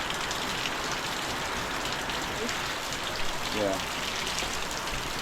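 Steady rain falls on an island in the Philippines, a dense, even hiss of drops on surfaces filling the whole stretch, with a person speaking briefly beneath it.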